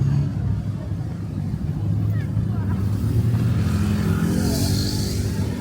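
Steady low rumble of night street traffic in Bangkok, with engines humming and a vehicle passing, while a voice talks over the background noise.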